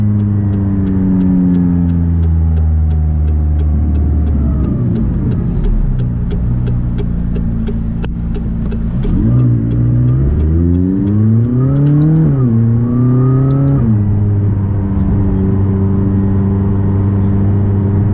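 A McLaren 600LT sports car's engine drones and revs while driving, its pitch climbing and falling through gear changes and throttle swells, loud and close from the cabin, with no talking.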